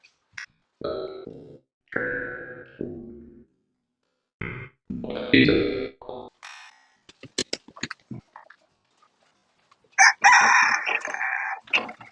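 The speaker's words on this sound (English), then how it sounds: "The roosters want to come out." Several roosters crow in turn, loud and close, with long drawn-out calls separated by short pauses and a few clucks between them.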